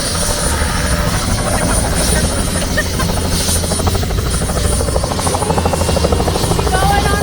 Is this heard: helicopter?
yes